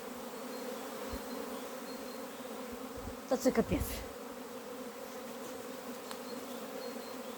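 A steady hum of young honeybees making orientation flights around the hives of an apiary in a cold spring, with a short burst of a voice midway through.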